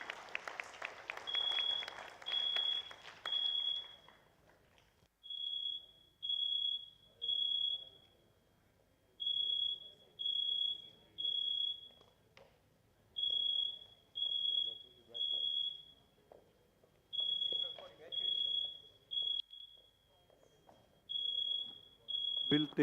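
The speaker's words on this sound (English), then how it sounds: "if this alarm is going out, we have to get out of this" A high-pitched fire alarm beeps in repeated bursts of three, loud and insistent, after a burst of crowd applause at the start of an indoor event; faint room noise between bursts.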